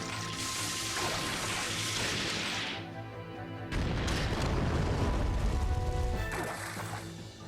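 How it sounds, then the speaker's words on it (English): Slot Machine, a monster in Yu-Gi-Oh! The Falsebound Kingdom, wades through water with dense splashing and crashing game effects, a loud hiss giving way to heavier low thumps partway through. "It seems like Slot Machine's movement actually made different sounds because it was walking in the water."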